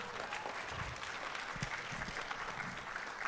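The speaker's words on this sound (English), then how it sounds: "Let's give a round of applause for Mrs." A school audience at a freshman orientation claps in a sustained round of applause, a dense even patter heard at moderate distance without a break.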